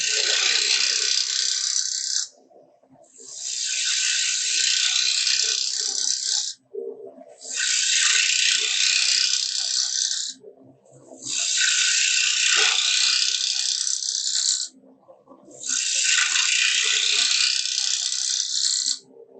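Wood lathe turning a wooden box, a loud bright cutting hiss in five long bursts of about two to three seconds each, separated by short quiet gaps where the tool lifts off the spinning wood.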